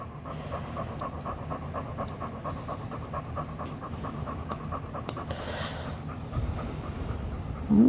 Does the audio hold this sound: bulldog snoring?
yes